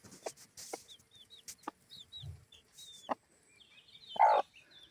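A broody hen clucks softly while her newly hatched chicks peep in short, high chirps nearby, scattered across a quiet background.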